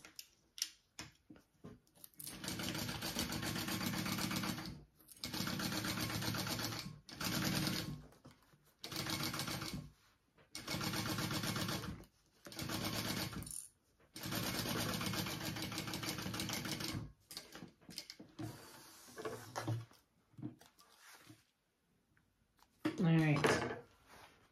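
A sewing machine stitches along the top edge of a bag in several bursts of steady whirring and needle rattle, each stopping abruptly with short pauses between, close-up, followed by brief handling noise near the end.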